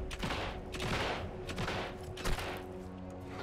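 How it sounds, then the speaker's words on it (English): Video game gunfire crackles in rapid bursts of repeated shots, a steady volley that sounds distant and fairly faint against a low background. "What the fuck are they shooting at?"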